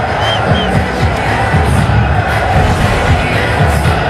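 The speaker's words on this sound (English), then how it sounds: "That got the crowd going" A cricket stadium crowd cheers loudly and continuously, a dense roar of many voices with whoops rising above it throughout.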